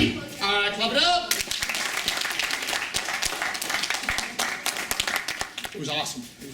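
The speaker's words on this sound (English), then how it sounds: "Clap it up." Krav Maga class students clapping in a training room, a steady burst of applause from about the one-second mark that continues to the end, with voices mixed in at the start.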